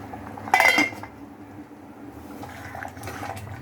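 A single metallic clink of a lid set onto a pot of cauliflower and potato kurma, followed by quiet kitchen background and a soft bubbling simmer.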